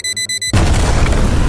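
A robot car's alarm beeps in a quick series of pulses, then a loud, close explosion blast erupts and rumbles on.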